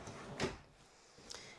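An RV sliding closet door glides and thuds twice, one sharp knock near the start and a lighter bump near the end, with a quiet pause between them.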